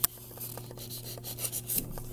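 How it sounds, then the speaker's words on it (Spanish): Sandpaper rubbing over a foam ball being shaped into a round form for a Christmas fofucha doll, giving soft, repeated close-up rasping strokes in an irregular rhythm over a steady low hum, with no talk. "Y pueden pasarle lija hasta que quede derecho"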